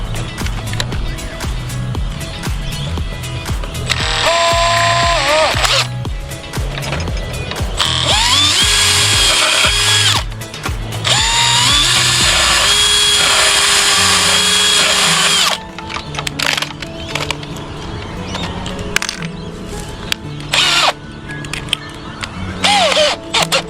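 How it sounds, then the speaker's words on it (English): A power drill pre-drills screw holes in a wooden gate, with several loud sustained whirring bursts separated by brief pauses, followed by shorter intermittent tool noises and handling clatter. "I'm going to just pre-drill those last ones"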